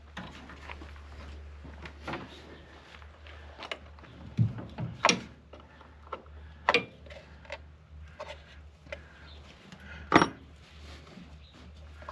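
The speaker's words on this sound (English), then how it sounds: "I'll get a wrench and undo those, 1/2 inch" Half-inch wrench working loose the battery terminals on a 1927 Ford Model T Speedster, giving scattered metallic clicks and ratcheting knocks close by, with a few sharper clanks spread through a quiet background.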